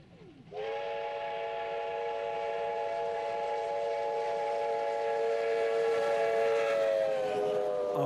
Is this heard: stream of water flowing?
no